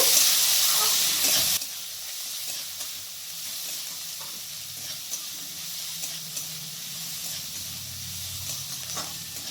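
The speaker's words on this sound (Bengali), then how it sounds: "পেঁয়াজ কুচিটাকে আমি এখানে সময় ধরে ভেজে নেব।" Chopped onion fries in a pan, an intense hiss at first that drops to a steady, softer sizzle with faint stirring scrapes throughout.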